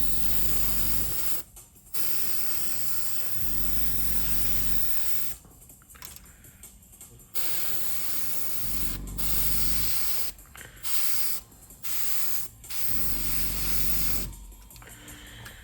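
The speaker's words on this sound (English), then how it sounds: "then we can spray all these discs" Loud hissing of a spray can releasing paint in long bursts, broken by short pauses, close to the listener, spraying parts of a Tamiya 1978 Lotus scale model kit.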